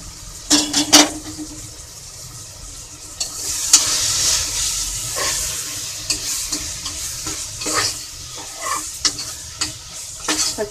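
Onion-tomato masala with chilli powder frying for mutton biryani, a steady sizzle with clustered spoon scrapes and clinks against the pot, close and fairly loud.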